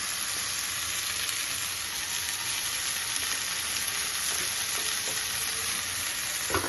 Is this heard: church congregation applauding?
no